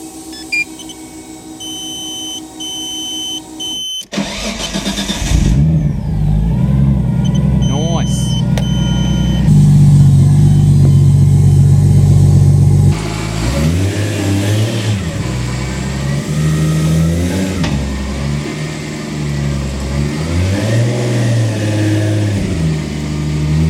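A car engine cranks and catches after a battery replacement, then revs up and down in several rising and falling sweeps over a steady idle, with warning beeps early on and a person talking.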